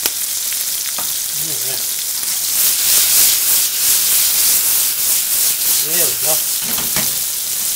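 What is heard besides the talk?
onions and tomatoes sizzling in a pan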